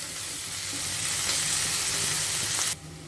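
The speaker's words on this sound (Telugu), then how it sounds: "ఇప్పుడు ఈ ఉల్లిపాయ ముక్కల్ని ఒక 2 నిమిషాలు ఫ్రై చేసుకోవాలి." Chopped onions and curry leaves fry in hot oil in a pan for drumstick curry, giving a steady, close, loud sizzle with faint stirring scrapes that drops off sharply near the end.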